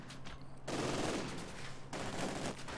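Infantry gunfire in the World War II strategy game Company of Heroes 2, a rapid, dense burst of machine-gun and rifle fire heard in two loud stretches with a short lull between.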